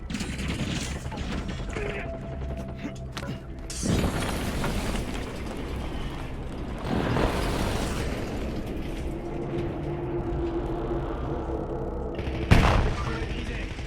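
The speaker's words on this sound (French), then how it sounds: "Frappe aérienne ennemie dans la zone." Enemy airstrike explosions boom at intervals in Warzone, a battle-royale shooter game. Several heavy blasts and a sharp final impact land over continuous rumbling gunfire and mechanical clatter. Voices sound in the background.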